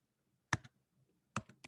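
Keys tapped on a computer keyboard during a math class session, heard as two short clusters of crisp clicks separated by a pause, close and fairly quiet with no talking.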